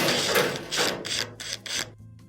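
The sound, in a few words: removing Phillips screws from LG dryer frame bracket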